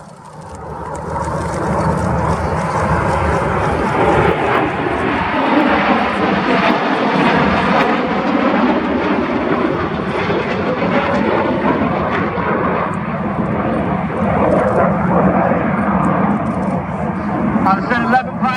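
Red Arrows display jets roll around the rest of the formation, a loud sustained roar that rises quickly and holds steady overhead for many seconds, with an announcer speaking underneath.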